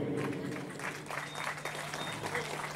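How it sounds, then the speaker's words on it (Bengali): At a winter-morning registration camp on the Chuchura grounds, an audience claps to welcome distinguished guests: a sustained patter of many hands, moderately distant, with a low hum and faint voices underneath. "প্রত্যেককে আমরা আন্তরিক সহযোগিতা চাইছি করতালির মধ্য দিয়ে"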